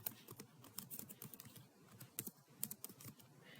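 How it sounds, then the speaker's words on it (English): Rapid, irregular keystrokes on a computer keyboard during file and folder work, with a few sharper clacks like the Enter key, close and fairly quiet with no voices. "hit Enter on my keyboard."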